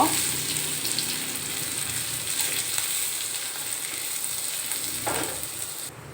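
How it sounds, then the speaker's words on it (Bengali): Almonds, cashews, dates and raisins fry in ghee with a soft, even sizzle that holds steady at moderate volume, with no voices. "এগুলো আমি ঘির ভিতর ভেজে নিয়েছি"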